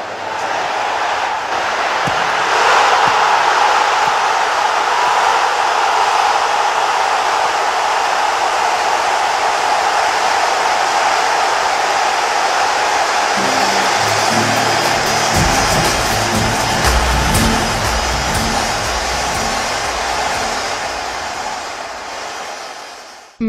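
Tens of thousands of Algerian football supporters roaring in a home stadium: a dense, loud, sustained crowd din that swells and surges into louder rhythmic chanting in the latter half.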